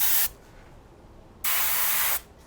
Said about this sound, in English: All right, so that's all sprayed.